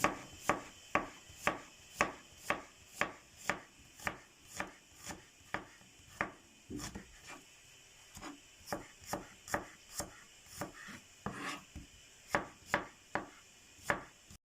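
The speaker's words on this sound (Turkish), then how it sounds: "Soğanlarımızı da aynı şekilde jülyen jülyen keseceğiz." A knife slices onions into thin julienne strips on a cutting board, making a long run of quick, sharp, evenly spaced chops close by, with no talking.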